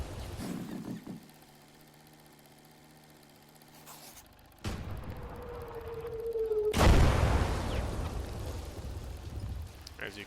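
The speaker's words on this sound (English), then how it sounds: "I will bombard a position, and it will just continuously fire until" Artillery shelling a position in the World War II game Gates of Hell: a low rumbling hum, then a sudden sharp blast, followed by a heavier booming explosion with a long rolling, crackling decay.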